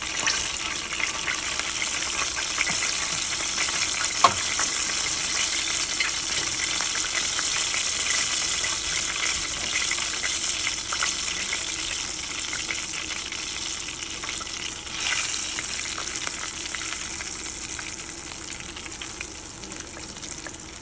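Chicken pieces fry in hot grease for crispy chicken, a loud, steady, dense crackling sizzle that holds throughout, close up, with one brief clink and no talking.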